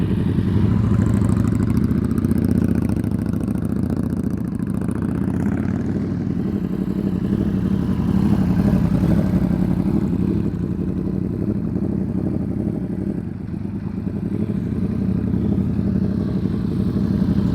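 Motorcycle engine during skills practice as the rider lets the clutch out, a continuous mid-pitched engine drone with some clatter, steady and close for the whole stretch, no talking.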